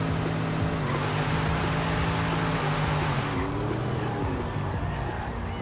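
A twin-turbo Mercedes doing a burnout in Forza Horizon 5 produces a sustained, loud engine roar with tire squeal, the pitch shifting midway before easing slightly toward the end.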